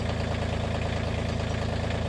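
Tractor engine idling at a steady, even throb with a fast regular knock, close and continuous with no talk over it.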